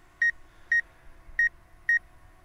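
A Hubsan Zino Mini Pro drone's obstacle-avoidance sensor sounds four short, sharp electronic beeps in an even rhythm, loud and clear over a quiet background.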